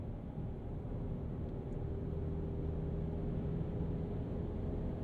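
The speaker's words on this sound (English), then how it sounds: "you hear that turbocharger compressor even amidst the 4-cylinder noise" A 2023 Chevy Colorado Trail Boss with its turbocharged 4-cylinder and 8-speed automatic drones along at steady load, a continuous low engine rumble with a faint higher whine riding on top.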